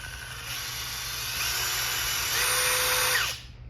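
A Ridgid impact driver runs steadily at close range, a continuous high whine that holds for about three seconds with a slight rise in pitch before cutting off abruptly.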